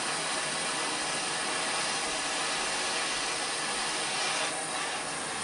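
A heat gun blows steadily on the top of a rifle buttstock while it is heated to loosen the bonding for a chassis installation, a loud continuous airy roar filling the whole clip with no talk.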